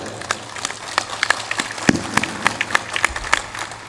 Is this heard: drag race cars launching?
no